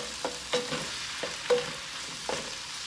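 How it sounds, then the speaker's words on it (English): Tomato sauce cooking in a pan for gnocchi, with a low steady simmer and sizzle and several soft clicks of a spoon stirring through it. "The sauce is cooking nicely."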